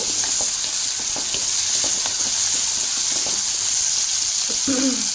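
Shallots and dried red chillies sauté in a pan with a loud, steady sizzle and frequent small pops and scrapes from stirring, up close throughout.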